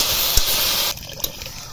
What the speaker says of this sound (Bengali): কষানো হয়ে গেছে, এবার জল দেব।